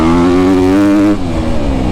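A 2024 Honda CRF250R dirt bike engine revs loudly up close, holding a high, steady pitch before the revs drop off about halfway through.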